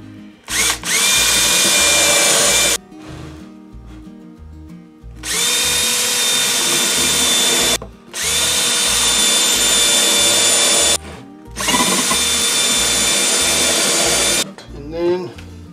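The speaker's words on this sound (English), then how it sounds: "I'm going to just drill a couple of pilot holes." A power drill whines loudly in four long bursts drilling pilot holes in wood, each revving up and cutting off, with brief quiet gaps between.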